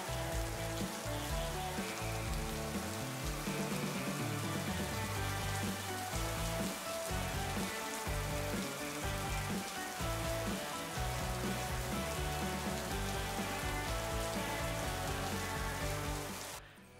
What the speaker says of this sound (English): It's raining really heavily.